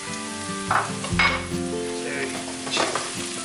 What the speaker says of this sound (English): I'm going to throw in the ginger garlic.